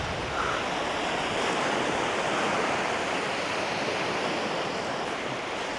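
Ocean waves roar continuously in a dense, steady wash of surf on an outgoing tide at Whitby, with no voices.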